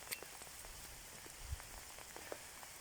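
Rain falls steadily on a muddy rural road during Easter holidays, a soft continuous patter with scattered louder drops and a low thump near the middle, no voices.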